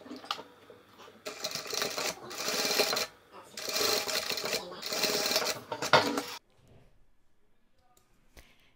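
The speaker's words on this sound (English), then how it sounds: "we're going to stitch straight down the back of the lining" A sewing machine stitches straight down the back seam of a Converse shoe lining in loud, rapid bursts with short pauses, then stops, leaving near silence for the last couple of seconds.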